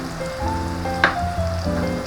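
Garlic and onion sautéing in a pan for beef caldereta give a steady, close sizzle with one brief scraping stir near the middle; no one speaks.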